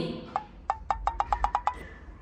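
A phone rings with a quick, even run of about nine short electronic beeps, fairly quiet, over faint background noise.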